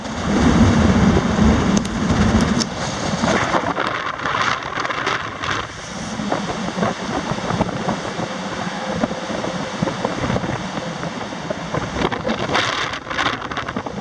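Strong wind from Storm Egon in Denmark roars steadily across the microphone, with gusty buffeting throughout and a broad rushing noise that never lets up.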